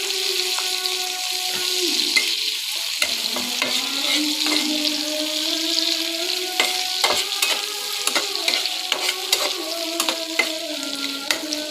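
Green chillies and a little garlic fry in oil with a lively, continuous sizzle. Frequent sharp crackles and spatters sit close up throughout, and no one talks.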